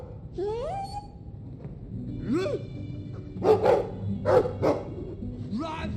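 A dog in the video game Dragon Age 2 gives a few whining, yelping calls followed by several short barks. Sound effects and a faint background are underneath.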